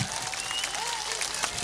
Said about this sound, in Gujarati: એવી જોરદાર તાળીઓ પાડે